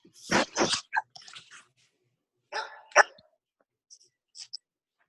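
A dog barks in a few sharp, close bursts, loud at first and then smaller yelps and whimpers trailing off into quiet.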